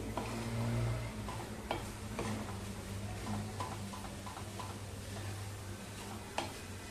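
A spatula stirs and sautés sweet modak filling in a pan over a low flame, giving a steady scraping and faint sizzle marked by occasional ticks of the utensil against the metal.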